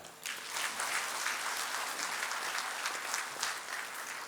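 Applause from a seated audience at the National Chilika Bird Festival ceremony, a steady dense clapping that swells quickly and carries on for several seconds with no voices over it.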